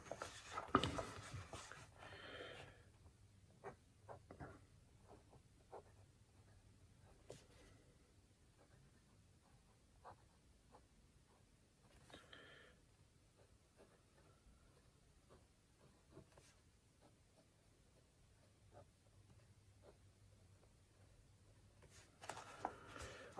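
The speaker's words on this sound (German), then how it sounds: "die Seite, die ich mir ausgesucht habe und fangen an zu schreiben" Fountain pen with a Bold Edition nib, filled with Diamine Ancient Copper ink, writing on a Hahnemühle notebook page: faint, close scratching strokes in short bursts over quiet hiss, with louder handling rustles at the start and end.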